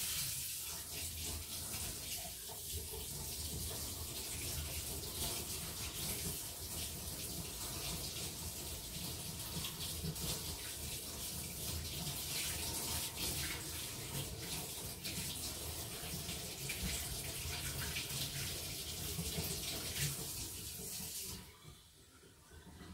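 Hot water runs steadily from a kitchen tap into a sink, a continuous close splashing hiss lasting throughout before cutting off near the end.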